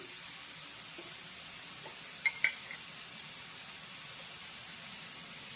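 Curry leaves are dropped into sizzling brinjal curry gravy as oil separates from it, giving a quiet, steady frying hiss with a couple of small crackles partway through.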